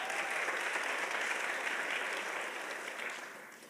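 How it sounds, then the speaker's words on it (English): An audience at a community justice summit applauds a speaker, a dense sustained round of many hands clapping that stays loud and even before gradually thinning and fading near the end. "Give her another round of applause,"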